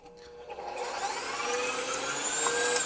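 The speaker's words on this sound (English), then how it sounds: "In the bowl of mixer, I have 5 egg whites, and I'm going to put my whisk attachment on." Stand mixer with a whisk attachment beating five egg whites in a bowl: a steady, loud motor whir with a whooshing, rising whine that holds throughout.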